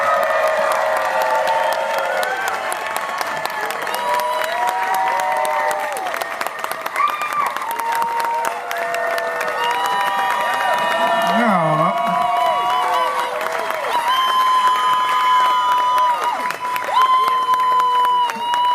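A club crowd at the Des Moines Social Club claps, cheers and whoops loudly and steadily to welcome David Byrne, with shouts and voices mixed into the sustained roar.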